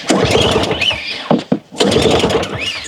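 Repeated pull-starting of a snowblower engine that fails to run: loud, ragged mechanical bursts of a recoil cord and sputtering engine, broken by a short gap with a few sharp knocks, then resuming close by.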